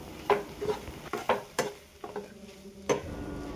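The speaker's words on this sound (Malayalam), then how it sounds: "ഇനി അതിലേക്ക് അരപ്പ് ചേർത്ത് ഇളക്കി കൊടുക്കാം." Spinach cooked with ground coconut paste is stirred in a pan for a Kerala thoran, giving a series of close, irregular scraping and tapping strokes over a faint sizzle, with no talking.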